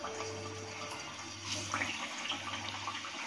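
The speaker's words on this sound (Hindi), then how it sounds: "तेल रख लिए थे, अभी हम फ्राई करेंगे" Potato smiley shapes fry in hot oil over medium heat, giving a steady, close, hissing sizzle that runs throughout without any talking.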